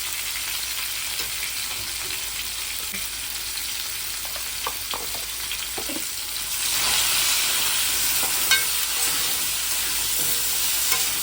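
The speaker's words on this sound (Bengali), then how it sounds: "ভালো করে ভেজে নিয়ে মশলা বাটাটা দিয়ে দেবো।" Taro pieces frying in a pan with salt, a steady sizzle joined by scraping stirs and light clinks, the frying swelling louder and brighter in the second half; no one speaks.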